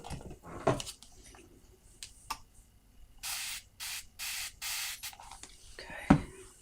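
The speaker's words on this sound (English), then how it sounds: "spray a tiny bit of water on it" A spray bottle misting water onto a plate, four or five quick close hissing bursts in a row, with faint handling sounds around them.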